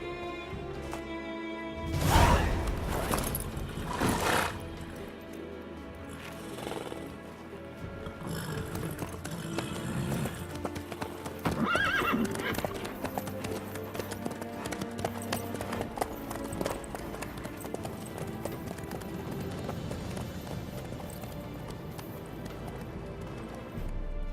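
Horse hooves clip-clop at a steady gallop in The Witcher 3 throughout, continuous and mid-distance under game music and ambience.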